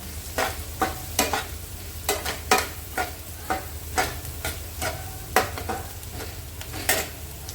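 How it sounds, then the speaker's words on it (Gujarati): Chopped onions sizzle in hot oil with garlic in a pan for a dhaba-style kaju masala, a steady fry hiss broken by regular scraping stirs, close and alone with no talk. "હવે આપણે ડુંગળી નાખીશું ઝીણી સમારેલી હતી તે ડુંગળીને બી પણ ગોલ્ડન બ્રાઉન થવા દેવાની છે"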